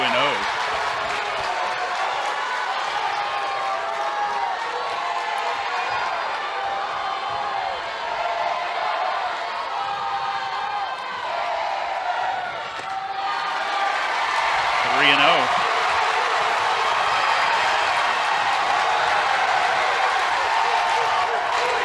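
A women's college softball crowd at a Georgia versus Florida game keeps up a steady roar of cheering and noise in the stadium, swelling slightly toward the end under a commentator's voice.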